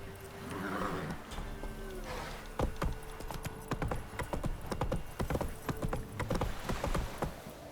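Horse hooves clip-clop steadily along in The Witcher 3: Wild Hunt, a brisk, close rhythm of repeated hoof strikes with a faint background voice and ambient game sound.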